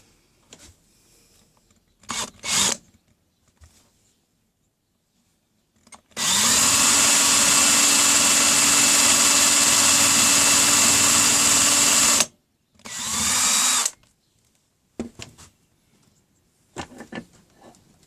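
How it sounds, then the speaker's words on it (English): A power drill whirs steadily for about six seconds while boring a shallow hole through the side of a wooden dowel, then runs again in a shorter burst, with scattered small knocks and handling noises around it. "I'm just going to drill a shallow hole through the side of them"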